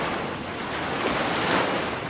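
Ocean waves roll onto a beach under steady wind in the game Return to Mysterious Island. The surf washes continuously at a moderate level with no voices.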